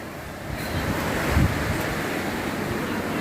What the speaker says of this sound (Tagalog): Kung makikita nyo kasi sa labas, lakas na ng hangin, oh.